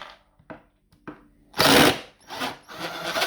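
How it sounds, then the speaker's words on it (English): A small 12-volt cordless drill whirs in short bursts, a few brief blips first, then a louder sustained run and another spin-up, close by with no talking. "This is my wee 15-pound drill."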